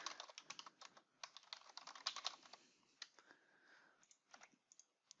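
Typing on a computer keyboard to enter login details, a quiet, uneven stream of close key clicks in quick bursts with short pauses.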